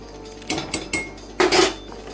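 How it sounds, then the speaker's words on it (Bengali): Duck eggs boil in a pot and are stirred with a metal utensil, giving a few sharp clanks and scrapes against the pot, close by and without talk. "একটু নেড়ে নিচ্ছি ডিমটা"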